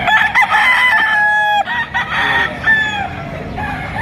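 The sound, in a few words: bullstag rooster crowing at a poultry market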